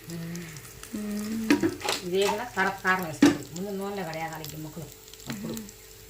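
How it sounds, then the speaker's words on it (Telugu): Pieces of food fry in a generous amount of hot oil in a home kitchen, a steady sizzle with occasional utensil clinks running under continuous nearby talking. "ఫ్రై అయితే చేస్తూ ఉంది మా అమ్మ అదిగోండి ఆయిల్ అయితే చాలా పోసింది"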